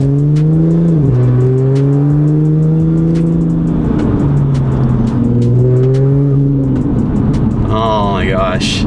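A car engine revs and pulls away, pitch rising and dropping through gear shifts, loud and close at first, with voices talking over it.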